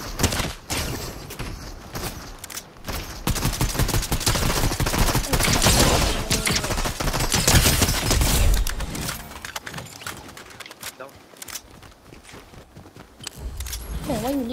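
Video-game gunfire in a busy shootout, bursts of rapid shots and booms scattered across the stretch over a dense layer of game sound, with some loud crackling volleys in the middle and quieter stretches toward the end.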